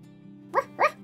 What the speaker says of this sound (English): Oh, that's just our dog, Cupcake.